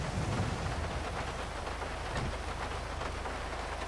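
Steady rain pours during a storm in Grand Theft Auto V on a coastal beach setting, a dense even hiss throughout with a faint low rumble, no voices over it.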